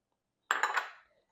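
A spoon clinks and scrapes against a bowl while lentil salad with chopped red onion is tossed, a short close burst of clattering that fades quickly, with no talking.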